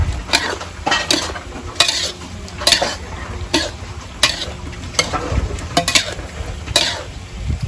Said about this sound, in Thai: ผมใส่ เครื่องเคียงครับฟึบ มีกระชายพริกไทยอ่อน ใบมะกรูดครับ